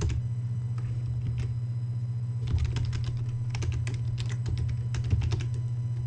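Typing on a computer keyboard, irregular bursts of crisp key clicks over a constant low hum, with a pause near the start and quick clusters of taps afterward, no talking.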